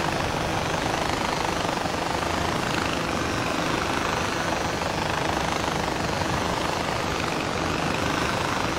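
Helicopter in the video game Far Cry 4, its rotor and engine roar holding steady and loud throughout, a continuous dense drone with no talk over it.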